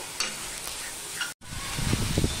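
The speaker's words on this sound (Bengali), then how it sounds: "আলতোভাবে আমি এইভাবে সম্পূর্ণটা মিশিয়ে নেব। ওদিকে চিনিটাও গলতে থাকবে।" Eggplant pieces stirred gently in a pan where sugar is melting, a soft continuous sizzle with light scraping, briefly cut off and then swelling a little louder.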